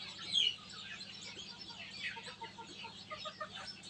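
Newly hatched chicks in a DIY 110-egg incubator, faint soft high peeping and chirping scattered throughout over a low steady hum, no talk.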